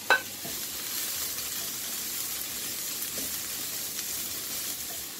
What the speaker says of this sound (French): Je vais mettre l'équivalent d'un poireau et d'un gros oignon que je vais faire suer.